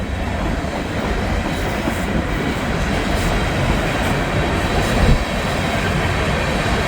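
A mixed manifest freight train with gondolas rolls past at close range, a loud continuous rumble of wheels and cars with faint clickety-clack and no break in the noise.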